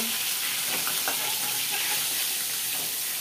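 Chara pona fish frying in oil, producing a dense, constant hiss and crackle up close, with a few soft spatters and no talk over it.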